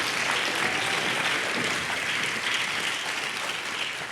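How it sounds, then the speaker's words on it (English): Audience applause at a staff presentation event, a dense steady wash of many hands clapping, loud and continuous throughout, easing slightly at the end. "Round of applause for Cory and Kimberly."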